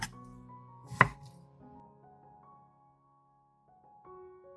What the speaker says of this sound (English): Try to cut evenly so they cook evenly and have a smoother texture.